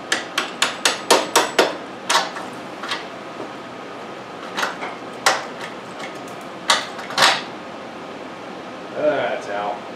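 Hammer tapping a lock nut on a 1974 Suzuki TC 125 motorcycle, a quick run of sharp metallic taps followed by scattered single knocks, close and clear.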